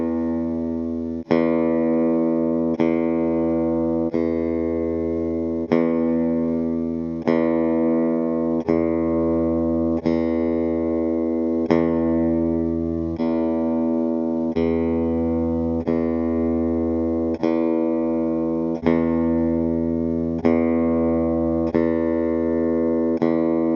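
Guitar strings are plucked one after another in a run of about a dozen evenly spaced notes, each ringing and decaying, cut together to compare nut materials including plastic; close and clean with no talk.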